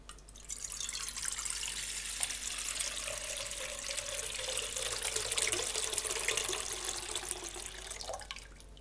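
Water runs steadily from a tap or pours in a continuous stream, a broad hiss that rises slightly in pitch toward the end.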